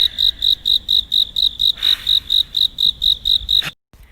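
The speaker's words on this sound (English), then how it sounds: "It's like so quiet, you can hear the crickets." Crickets chirp loudly and steadily in a regular pulsing rhythm, close and clear, then stop abruptly near the end.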